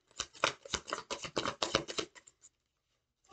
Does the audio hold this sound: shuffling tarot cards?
yes